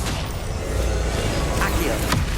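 A fiery Confringo blast spell from the game Hogwarts Legacy bursts with dense, rumbling booms and crackling impacts, loud and close, with a couple of sweeping whooshes near the end.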